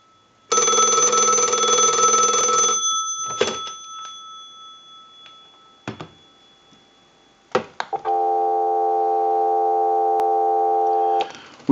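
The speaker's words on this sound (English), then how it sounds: "let it go one more time and we'll give you some dial tone" A telephone ring burst sounds first, followed by a few clicks, then a steady telephone dial tone that holds evenly for several seconds, clear and close with no talk.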